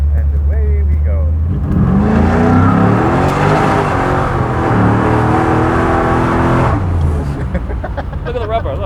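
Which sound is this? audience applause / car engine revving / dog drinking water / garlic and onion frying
car engine revving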